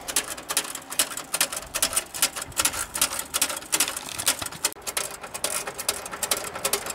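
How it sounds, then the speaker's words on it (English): A hand pump forces water into the boiler of a model 14xx steam locomotive, giving a fast, steady run of close mechanical clicks and taps that continues unbroken throughout. "And using the hand pump,"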